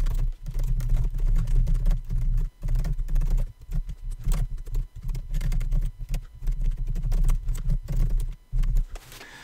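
In Final Draft screenwriting software, a simulated typewriter plays steady, rapid key clacks for several seconds. A low hum runs under them, and there are a few short pauses.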